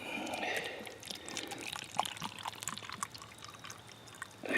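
Water poured into a homemade measuring cup cut from a plastic water bottle, a steady close trickle and splash lasting several seconds with small drips, no talk over it.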